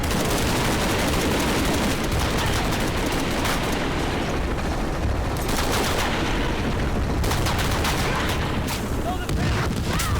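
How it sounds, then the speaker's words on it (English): Heavy gunfire and explosions from the video game Shadow of the Tomb Raider rattle in dense, loud, overlapping bursts, with voices mixed in. "I've got a lock on the target. Opening fire."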